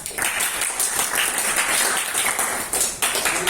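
Applause breaks out for a student narrator during a group class presentation on discrete mathematics, a dense steady patter of many hands clapping close by for the whole stretch, briefly dipping before resuming.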